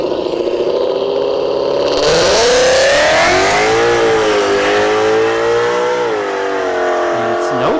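A supercharged drag race car, likely with a centrifugal supercharger, launches down the ShowTime Dragstrip with a loud engine roar that surges in and climbs steadily in pitch, sustained and close, with faint voices in the background.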